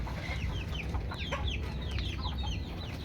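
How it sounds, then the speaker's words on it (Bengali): Desi chickens on a farm cluck in a busy, overlapping chorus of short calls that carry on steadily over a low background rumble, with no talking. "আজকে আপনাদের দেখাবো কত সুন্দর সুন্দর মুরগি"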